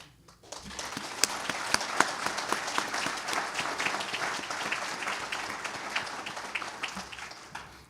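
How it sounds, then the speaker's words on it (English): Audience at the College of DuPage Athletic Hall of Fame ceremony breaks into sustained applause, rising quickly into a full, even clatter of many hands with a few crisp claps on top before easing off. "So the administration at the College of DuPage needs to be applauded."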